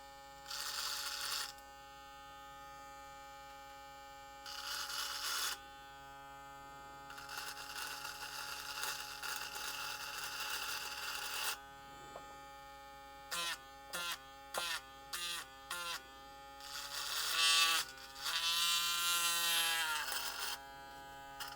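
A high-powered BaByliss dual coil hair trimmer with a MIM blade runs in bursts as it cuts through a brush, its loud electric buzz switching on and off in short pulses and longer stretches, with no talking.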